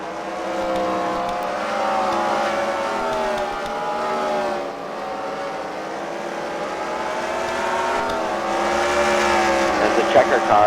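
Race cars lap the Freedom Factory track during a CWRL Fight Night heat, their engines a steady, loud droning roar that swells and fades as they circle, with a commentator talking over the noise throughout.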